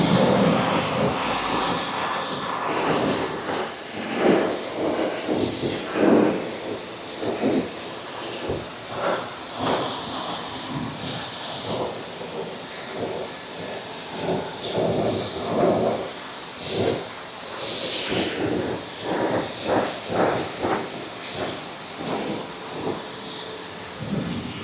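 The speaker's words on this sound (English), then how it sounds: "Just rinse off the rest." Water sprays with a continuous hiss from a pressure washer close by, surging and pulsing unevenly as it rinses a car engine bay.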